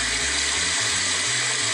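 Toilet flush played as a sound in a guessing game, a continuous loud rushing of water with a gurgling low churn underneath, short and steady, with no talking.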